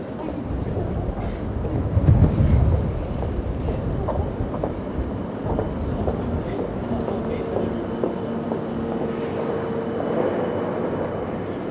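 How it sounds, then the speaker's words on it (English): A Midland Metro tram pulls away in Birmingham bound for Wolverhampton St George's, a low, steady rolling rumble that swells early on and then holds, with faint voices nearby. "So there it is, tram, Midland Metro tram, off on its way to Wolverhampton St George's."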